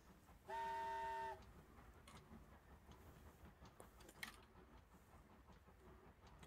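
A short, loud train horn blast sounds near the start in the video game Inside, followed by steady rumbling rail noise with a few faint clanks.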